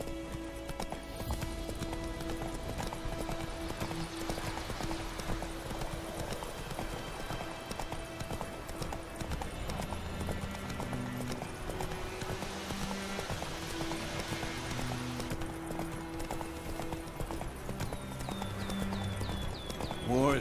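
Horse hooves clip-clop in a steady galloping rhythm in The Witcher 3, continuous and fairly close, with game music and ambience underneath.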